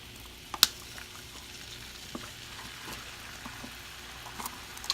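Crab boil sauce with sugar and hot sauce is stirred in a pot, giving soft faint bubbling and sizzling with a few sharp scrapes and clinks scattered through.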